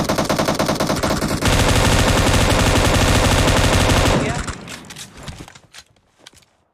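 Rapid automatic gunfire from the PUBG Mobile battle royale game rattles in dense, loud bursts, becoming a continuous stream before breaking into scattered shots and fading out.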